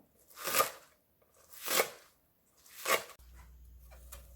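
A knife slices through a tender Jeju radish on a cutting board in three slow, evenly spaced crunchy strokes, close and crisp, followed by a low steady hum.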